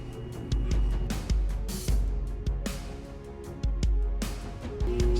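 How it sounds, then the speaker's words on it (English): A spessartite garnet is polished on a spinning, water-wet faceting lap, giving repeated scraping swishes in an uneven rhythm over a low, steady motor hum. "That's the sound of a gem polishing."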